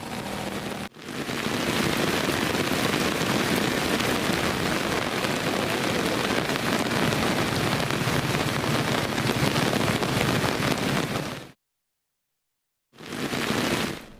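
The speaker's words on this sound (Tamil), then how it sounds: "ஆவடி, ஐயப்பாக்கம், திருமுல்லைவாயில், பட்டாபிராம் உள்ளிட்ட பகுதிகளில் மாலை நேரத்தில் கனமழை பெய்தது." Heavy evening rain pours down in a dense, continuous roar, loud and close, then cuts out abruptly before resuming briefly at the end.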